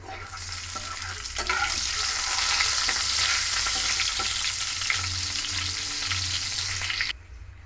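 Asafoetida and whole cumin crackle and sizzle in hot oil for a vegetarian cabbage dish, a loud steady fry with stirring scrapes that stops abruptly near the end.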